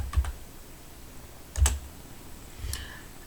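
Sparse keystrokes on a computer keyboard: three short separate clicks spaced about a second apart, close and fairly quiet over a low steady background hum.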